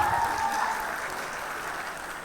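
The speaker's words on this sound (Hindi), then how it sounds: "तालियों में कोई कमी नहीं होनी चाहिए." Audience applause rolls through an onstage event with Sunny Deol, Amisha Patel and Utkarsh Sharma. The thick, continuous clapping starts strong and slowly eases off.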